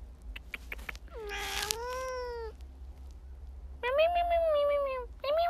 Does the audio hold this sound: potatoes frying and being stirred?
no